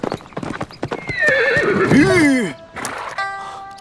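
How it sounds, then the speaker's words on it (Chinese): A horse approaching with quick clip-clopping hooves and a loud whinny in the middle, heard close by as people talk over it in a period drama scene. "我听到马蹄声了"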